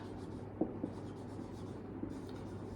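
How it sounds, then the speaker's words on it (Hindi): Pen or marker writing out a class 10 maths solution on pairs of linear equations, a steady scratchy rub with a few small taps, close and fairly quiet, with no talk. "तो हम यहाँ लिखेंगे"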